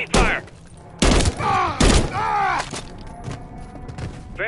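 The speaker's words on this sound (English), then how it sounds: "There's enemy fire!" Enemy gunfire in a Modern Warfare 3 campaign mission, loud sharp bursts landing in several heavy hits between shouted voices, with a busy battle din underneath.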